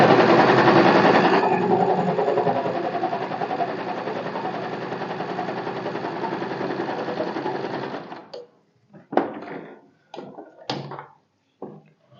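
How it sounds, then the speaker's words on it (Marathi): A sewing machine stitches tucks on a blouse in a long, steady, loud run, then stops, followed by several short clicks and knocks of the machine being handled. "पुन्हा जसं आहे तसं त्याच लाईनवरून स्टिच करून घ्यायचा"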